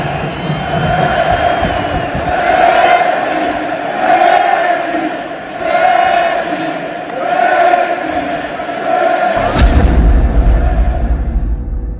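A stadium crowd at BC Place roaring after a soccer goal, a big sustained swell of cheering and noise with rising and falling surges, under a narrator's voice, ending in a loud low thump.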